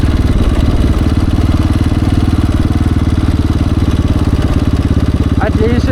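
A KTM 690 Enduro single-cylinder motorcycle engine thrums steadily while riding, a loud continuous low pulsing drone that holds an even pace throughout.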